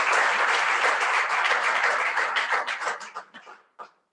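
An audience at a blood donation felicitation in Jaipur claps loudly for the staff; dense applause holds steady, then thins into scattered claps and stops.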